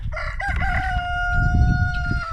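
A rooster crows a long, drawn-out call close by, with low farmyard rumble and scattered clucking of Cochin hens underneath.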